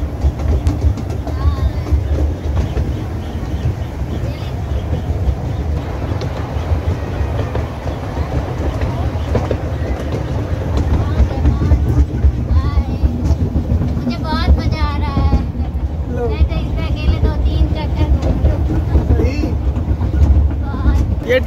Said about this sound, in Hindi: पूरा आगे से पीछे पूरा डब्बा हमने रिजर्व कर लिया और ट्रेन को चलाया है।